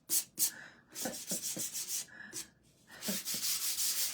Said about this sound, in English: And I'm sanding it very lightly, not as heavy as I normally do